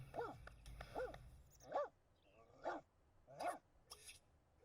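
A dog in The Sims barks in a few short, separate bursts, moderately close, with quiet gaps between them and a brief low rumble at the start.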